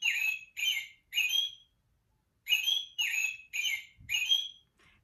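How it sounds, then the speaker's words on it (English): An American robin sings in clear whistled phrases: three notes, a brief pause, then four more, evenly spaced and close, with no talking. "you're going to hear a robin song"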